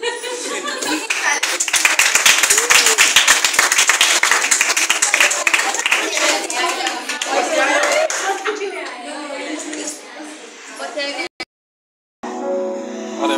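Several people clap their hands together in quick, uneven bursts amid lively chatter and children's voices, the clapping loud and close before trailing off, with a brief dropout near the end.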